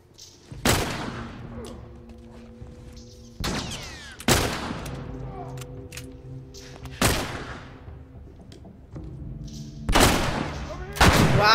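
Gunfire in The Last of Us video game: five or six loud, sharp shots spaced a couple of seconds apart, each ringing out with a decaying tail over a low game soundscape.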